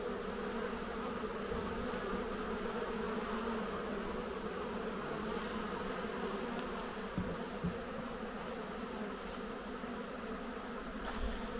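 Honeybees buzzing steadily around an apiary in early May as they gather pollen from spring snowdrops and willow, a dense continuous hum that stays loud and close throughout with no talking.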